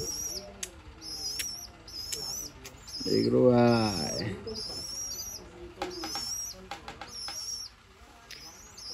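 Pigeons flutter and flap their wings close by in a busy spot, with repeated chirpy calls and a burst of throaty cooing in the middle, while people talk casually over them.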